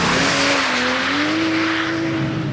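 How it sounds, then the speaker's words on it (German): A 340 PS 2020 Toyota GR Supra drifts around a corner, its engine holding a loud, steady drone that climbs gradually under a broad hiss of sliding tyres, heard close throughout with no voices. "ich drift jetzt mal ein bisschen hier um die Ecke"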